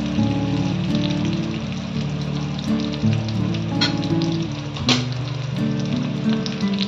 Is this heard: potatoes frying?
yes